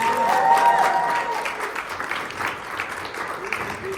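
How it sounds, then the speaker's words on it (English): A crowd at a grand opening celebration in Las Vegas gives JP a round of applause, steady clapping from many people in an indoor room that gradually thins out, with faint voices mixed in. "everyone, round of applause for JP."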